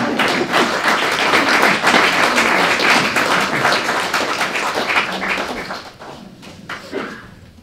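After a philosophy lecture on Nietzsche and Deleuze, a French audience breaks into sustained applause, dense and fairly loud for several seconds before thinning and fading toward the end.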